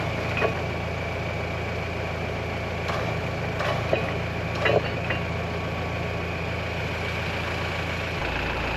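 The engine of a 1937 Caterpillar RD4 bulldozer runs steadily in neutral, a low, even idle throughout with a few faint knocks and clanks over it.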